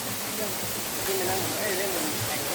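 Mae Kradang La waterfall pouring steadily, a broad, constant rushing roar heard close, with faint voices underneath.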